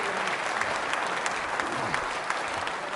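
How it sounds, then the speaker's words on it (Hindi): Loud, sustained audience applause at a quiz show for trainee state service officers, steady dense clapping from a crowd with no pauses throughout. "तालियां जोरों से बजाइए आप इसके लिए।"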